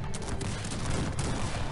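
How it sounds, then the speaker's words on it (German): Cannon and gunfire volleys in a Cossacks 3 battle, a dense continuous barrage of booms and crackling shots throughout, loud and close with no talking. "Kanonen feuert mal hier drauf."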